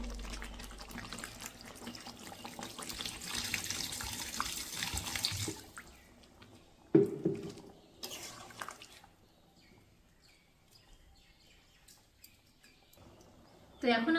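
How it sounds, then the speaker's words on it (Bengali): Water is poured generously over chicken pieces in a pot for a Bengali-style chicken curry, a splashing gush that lasts around six seconds before fading into quieter clatter and soft kitchen noises. "তো এখন তাহলে আমি মাংসটাতে একটু বেশি করেই জল দিয়ে দেবো।"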